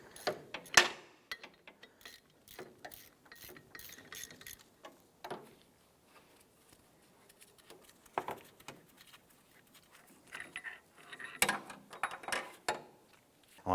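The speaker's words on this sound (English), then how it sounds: "we're going to use our 19mm socket and our ratchet, and we want to go ahead and loosen and remove a horizontal bolt" Ratchet with a 19mm socket loosening a horizontal engine mount bolt on a 2007-2012 Nissan Versa: quiet, close, irregular ratcheting clicks in short runs with pauses between.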